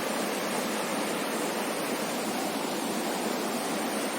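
Deojharan waterfall near Deogarh pours over rocks in a forested setting, a loud, close, unbroken rush of falling water with no voices over it.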